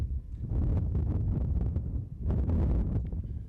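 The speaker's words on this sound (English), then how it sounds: "Very, very windy." Strong wind buffets the microphone at an outdoor polo match, a heavy low rumbling roar in surging gusts that rise and fall across the whole stretch, with no talk.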